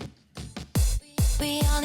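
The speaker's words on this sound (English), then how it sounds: "These toms in between." Several booming tom drum hits in quick succession, each with a deep pitched decay, forming a short punchy fill in an EDM dance track.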